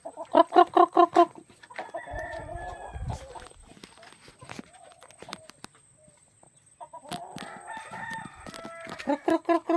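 Pet chickens cluck in quick, close bursts at the start and end, with softer scattered calls and rustling between.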